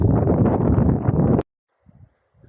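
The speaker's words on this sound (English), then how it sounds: "Quite a windy day." Strong wind buffeting the microphone for over a second at Swindale Beck in the Lake District, cutting off into near silence with faint low thumps.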